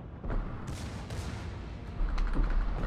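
Secondary guns on a surfaced submarine in World of Warships fire a few scattered booms and pops, moderately loud over a rumbling low background.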